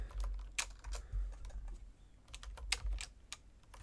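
Close, quiet typing on a computer keyboard: irregular bursts of keystroke clicks over a low background hum, with no speech.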